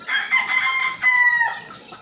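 A rooster crows at a farm with flying pens for gamefowl, a clear, near call with a long drawn-out final note, carried alone over quiet farmyard background.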